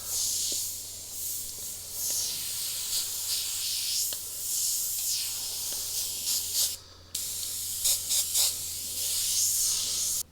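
Steady fine hiss of a suction-feed airbrush spraying at around 30 PSI during a quick warm-up, close and continuous with brief pauses and short bursts near the end.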